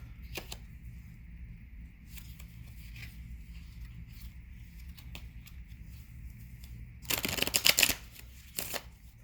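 Tarot and angel cards are shuffled in a quick riffling burst near the end, following quiet handling and light taps, close and alone without talk.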